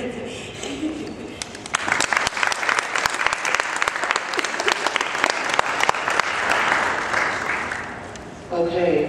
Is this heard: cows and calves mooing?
no